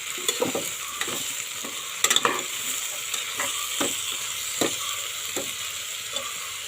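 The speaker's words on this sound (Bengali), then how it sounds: "এক হাতে আমি খুন্তি নাড়ছি" Bottle gourd frying in a pan while a spatula stirs it. Scraping strokes come at a loose, repeated rhythm over a steady, close sizzle, with no talk.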